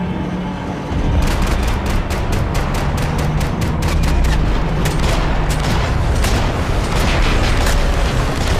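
Max Payne 3 gunfight: sustained bursts of rapid gunshots and booming blasts, loud and close, a dense crackling barrage running almost continuously after a brief quieter start.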